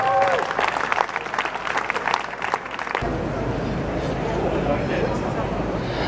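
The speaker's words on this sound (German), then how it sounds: "Applaus für Hubert" Crowd applause at an outdoor rally in Graz, loud clapping and cheering with voices and tonal sounds in the first half, then a dense, even wash of applause continuing alone.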